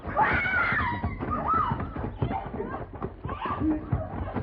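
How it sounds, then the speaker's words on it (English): A woman screams as a radio drama sound effect in a Western, shrill and wavering cries repeating over several seconds amid muffled background voices. "Oh, sound like a lady scream"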